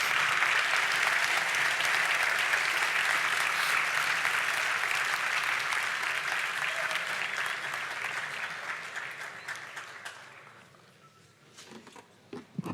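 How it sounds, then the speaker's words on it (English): An audience claps after a technical conference talk on Windows user space emulation, loud and continuous for about ten seconds before fading to a few scattered claps. "and now you can clap."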